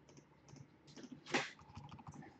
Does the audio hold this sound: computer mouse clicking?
yes